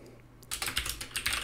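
Quick bursts of keystrokes on a computer keyboard, close and crisp, starting after a brief pause and running in an uneven rhythm to the end.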